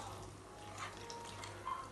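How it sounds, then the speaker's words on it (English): Water poured into a bowl of pastry dough made with melted butter, a soft steady trickle and splash heard close up, low and continuous, with no voices. "I'm gonna add some water"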